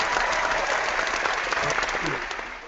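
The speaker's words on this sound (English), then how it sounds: "let's give him one more big round of applause to Dr. Calvin Fuller" An audience at a Total Life Changes training session gives Dr. Calvin Fuller a full round of applause, a loud, dense clapping that holds steadily and then begins to fade, with a voice faintly under it.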